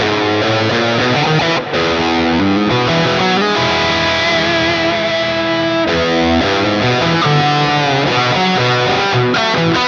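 Electric guitar played through the Neural DSP Archetype Plini preset with moderate gain and wet delay and reverb, sustained chords and ringing notes layering into a lush, continuous wash.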